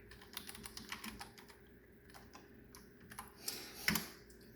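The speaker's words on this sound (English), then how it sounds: "write code that works using a USB keyboard on your Apple II Plus" A USB keyboard hooked to an Apple II Plus via a Raspberry Pi Zero being typed on, producing soft, uneven key clicks in bursts with brief pauses, faint and close, a sharper clack near the end, no voices.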